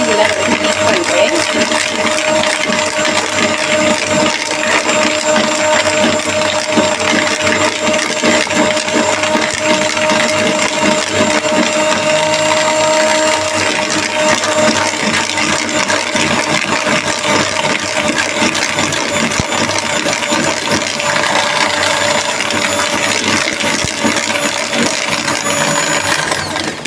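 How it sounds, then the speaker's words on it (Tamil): An electric beater whirs continuously and loudly through sponge cake batter in a bowl, with a steady mechanical drone and rattling texture throughout. "கொஞ்சம் கொஞ்சமாக தான் போட்டு இதில் வந்து பீட் பண்ணுறேன்."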